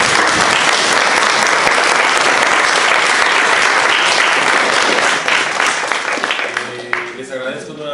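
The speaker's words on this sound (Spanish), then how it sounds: "Vamos a darle un aplauso" An audience at a university philosophy lecture session gives a strong burst of applause, dense clapping that holds steady for about five seconds and then thins out and tapers as the sound settles.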